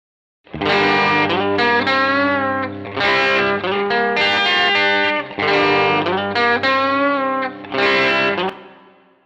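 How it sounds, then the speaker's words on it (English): Electric guitar plays chords and notes with a distorted tone and a splashy spring reverb from the default preset of the Sonnox Oxford Reverb plugin, in phrases with short pauses, decaying into a reverberant tail. "So let's hear the reverb and how it sounds like."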